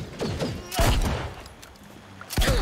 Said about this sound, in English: Actually, I need the shotgun for this.